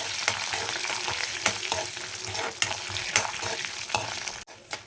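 Spices frying for a mutton gravy crackle and sizzle loudly in a pan, with repeated stirring scrapes spaced about a second apart and a brief dip near the end; nobody speaks.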